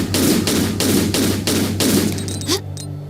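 In a game-like setting of the Jerusalem Old City, rapid bursts of gunfire aimed at rats pound out in a steady rhythm, about five loud shots close together, then fade into a quieter tonal hum.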